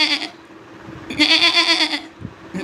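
A man imitates a goat's bleat with his voice, two wavering bleating calls, one short and then a longer quavering one, close and fairly loud with no other sounds.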